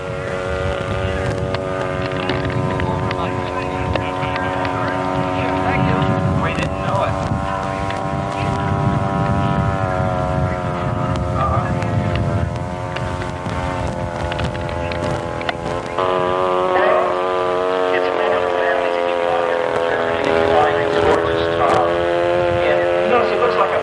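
Sopwith Pup biplane with a rotary engine swinging a large propeller, a steady droning engine note heard in flight from the ground, with wind buffeting and people talking nearby.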